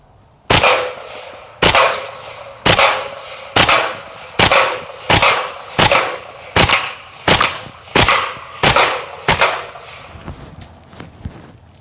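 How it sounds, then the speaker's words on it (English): A KRISS Vector fires tracer rounds at a beer keg outdoors: about eleven loud, sharp single shots spaced roughly a second apart, each with a short echoing tail, and no talking. "filled the gun up with tracer ammunition, and I'm hoping that as we shoot the keg, maybe we'll get to see some of those ricochets"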